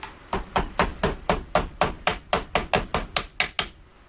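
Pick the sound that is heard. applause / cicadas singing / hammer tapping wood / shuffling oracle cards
hammer tapping wood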